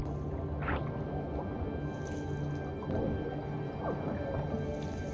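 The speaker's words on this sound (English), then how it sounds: "It's not every day you swim in the cave, is it?" Splashing and dripping water in a cold underground cave as someone swims through it, with soft sloshes and echoing drips throughout at a steady, moderate level.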